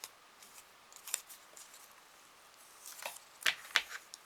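Scissors cut through a paper card in a few short, crisp snips, clustered near the end after scattered soft rustles, quiet and close with no talk.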